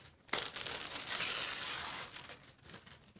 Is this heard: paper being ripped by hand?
yes